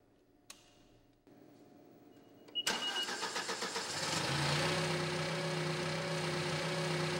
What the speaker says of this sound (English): When we start the engine again,